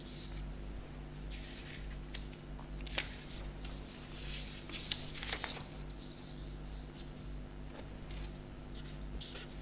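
Pen scratching across paper while equations are written out during a lecture on two-channel filter banks, a steady soft scribbling with small taps and strokes over a constant low electrical hum.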